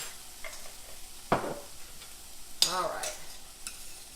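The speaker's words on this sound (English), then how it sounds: "I'm gonna saute this and get this nice and happy." Garlic sautéing in a pan gives a soft, steady sizzle, with a few sharp scraping stirs of a utensil against the pan. A voice briefly speaks over it.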